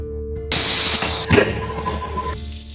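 Sliced small onions, curry leaves and broken dried red chillies hitting hot oil in a kadai for mutton fry, a sudden loud sizzle and hiss that bursts in and settles into steady crackling frying, with no talk.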